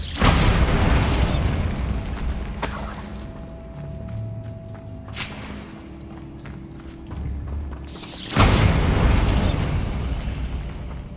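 Confringo and Bombarda spells explode in Hogwarts Legacy with loud booming blasts and crackling bursts, several in turn across the span, the gaps between them filled by mechanical clanks and a low hum.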